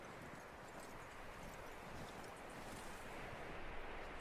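Horse hooves clop steadily in Red Dead Redemption 2, a continuous, fairly quiet patter under a broad wash of wind-like ambient noise, with no talk.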